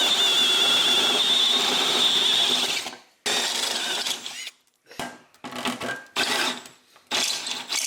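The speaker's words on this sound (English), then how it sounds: "now we're just gonna bore some holes in the corners here" A power drill bores holes in the corners of a Ski-Doo G4 850 snowmobile tunnel, with a long loud whining burst followed by several shorter grinding bursts separated by brief silences, heard close with no talking.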